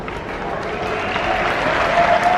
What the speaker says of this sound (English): I pause and people clap